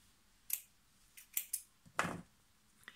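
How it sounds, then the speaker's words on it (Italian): Scissors cutting crochet yarn while finishing a whale amigurumi: four or five quiet, crisp snips spaced irregularly, the last one longer and fuller, close up with no talk. "Porto sul filo e lo taglio."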